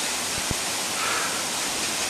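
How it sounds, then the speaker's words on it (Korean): A mountain stream swollen by heavy rain rushes in a steady, loud, unbroken roar, heard up close on a hike, with one brief knock early on. "진짜 비가 많이 와서 물이 진짜 많네요."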